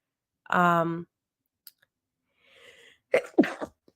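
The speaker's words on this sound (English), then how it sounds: "Sorry, I just sneezed." A single loud sneeze bursts out at close range, followed by a brief pause and then a few short noises and a spoken word.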